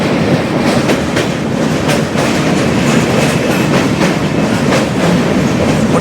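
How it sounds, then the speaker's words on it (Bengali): A passenger train runs across the Dakshineswar bridge with a loud, steady clickety-clack of wheels over rail joints. The rumble is continuous and close, with no voices. "মোটামুটি অন টাইমে চলছে ট্রেন"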